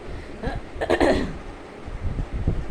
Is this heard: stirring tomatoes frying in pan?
no